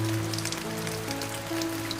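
Steady rain falls on surfaces with a constant soft hiss and scattered drops, alone and fairly quiet throughout.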